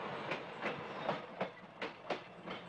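Old silver subway cars from the mid-1970s running on rails, giving a steady rumble with a clickety-clack of wheels over rail joints at a regular pace, moderately distant and without talk.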